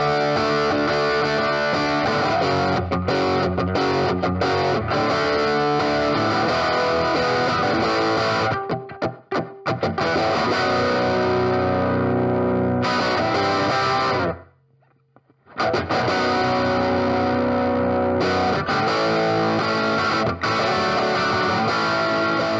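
Distorted electric guitar plays the chorus riff of a song, leading into the bridge section, loud and continuous with two brief gaps of near-silence partway through.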